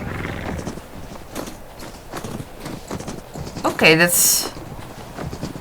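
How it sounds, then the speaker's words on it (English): Horse in Star Stable Online clip-clops and whinnies through a new in-game sound set, a rising neigh standing out near the end while a person talks over the hoofbeats. "Hey, my horse did not make those sounds before."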